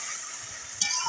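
Ginger, cumin and dried red chilli spice paste sizzles steadily in a hot pan while being stirred, with a brief louder scrape near the end and no talk.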